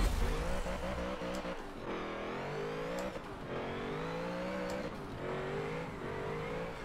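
A 1000 hp, 50-year-old Ford Lotus Cortina drag build in Forza 7 accelerates hard down a drag strip, its engine note climbing steadily in loud, continuous revving through several gear changes.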